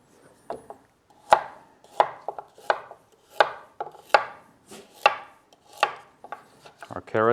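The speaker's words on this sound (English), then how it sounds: "you don't have to worry too much about how fine or how careful you are when chopping these things up" Knife chopping celery on a cutting board for vegetable stock, a steady series of about a dozen crisp, close, evenly spaced chops heard alone with no talking.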